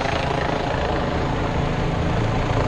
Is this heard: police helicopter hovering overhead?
yes